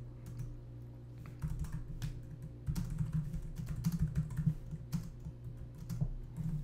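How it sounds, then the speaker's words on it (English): Quick bursts of typing on a computer keyboard, irregular clicks and key taps over a steady low hum, fairly close and moderately loud, with no talking. "Let's type that up real quick."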